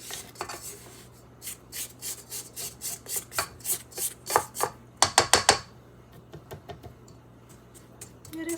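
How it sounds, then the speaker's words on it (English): A spatula scrapes the sides of a mixing bowl of fluffy pecan pie filling in quick, rhythmic strokes, a fast run of rasping swipes close by, then a pause and a few lighter scrapes. "I want to scrape the sides a little bit."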